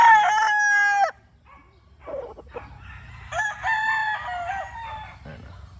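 Allen Roundhead gamefowl rooster crowing loudly and close, with two long harmonic crows separated by a quiet gap of low rustling and faint clucks.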